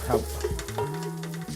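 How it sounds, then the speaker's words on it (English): Food sizzles and crackles steadily in a hot pan, close by, with faint tones sounding over the frying. "Let's let this keep frying."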